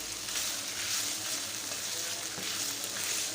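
Minced garlic and chopped hot and mild peppers fry in hot oil with a steady, close hiss and crackle, while a spoon stirring the pan adds occasional soft scrapes.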